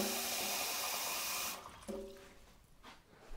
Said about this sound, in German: Jetzt fülle ich das hier mit Wasser auf.